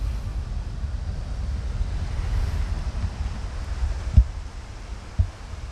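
Steady wind and breaking surf at a beach in Loíza, Puerto Rico, near where the Herrera river meets the sea, a broad continuous low roar with a couple of sharp wind bumps against the microphone.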